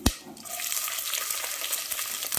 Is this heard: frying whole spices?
yes